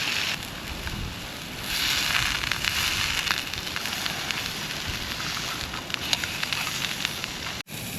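Rain falls steadily on the fabric of a cheap tent while wild camping in Scotland, a continuous dense patter and hiss close around, with some gusty rumble underneath and no talking.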